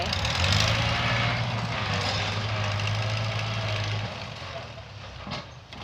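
A low, droning farm tractor engine runs steadily nearby, then its hum drops off toward the end, leaving a rougher background rumble.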